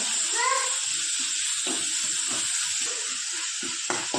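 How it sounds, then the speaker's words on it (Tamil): Grated carrot and curry leaves sauté in a pan with a continuous close sizzle and soft crackling, with faint stirring scrapes underneath and a short clatter near the end. "அந்த ஒரு கேரட்டை போட்டுக்கின்னு, நெக்ஸ்ட்டு கருவேப்பிலை, அப்புறம் நல்லா வதக்குங்க."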